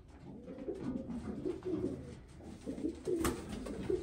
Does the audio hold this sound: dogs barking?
no